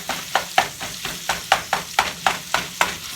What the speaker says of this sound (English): stirring up those sausages, getting them fried up together